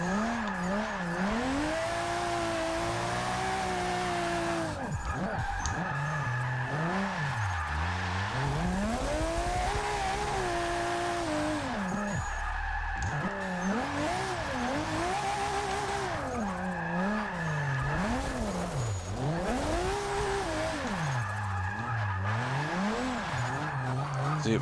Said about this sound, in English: Might as well just drift all the way back to the pits.